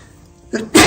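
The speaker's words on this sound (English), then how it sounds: "I'll leave that sneeze in there" A single sudden sneeze, a short sharp burst right up close after a moment of near silence.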